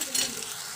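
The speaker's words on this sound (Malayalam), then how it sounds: "എന്നിട്ട് ഇത് മൂക്കട്ടെ, നല്ല പോലെ എണ്ണ തിരിയണ വരെ വേവിക്കണം." Paste of ground tomato, ginger, garlic and onion sizzles and hisses steadily in hot oil in a pan while a Kerala-style fish curry cooks, with a brief stir near the start and no talking.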